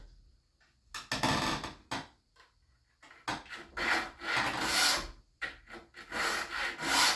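A hand file rasps across the teeth of a sawmill bandsaw blade in rhythmic, scratchy strokes, close up. Bursts of filing alternate with short silent gaps between teeth.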